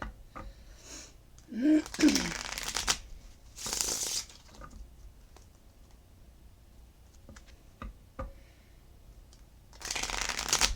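Tarot cards riffle-shuffled in several quick bursts, close and crisp, separated by quiet pauses with faint handling noises.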